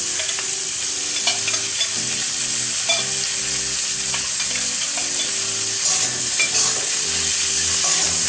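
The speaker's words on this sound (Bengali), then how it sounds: "যে আদা রসুন ভাজা হয়ে গেছে" Ginger and garlic fry in a hot pan for chilli chicken, a steady close sizzle broken by repeated scrapes and clinks of stirring, with no voices.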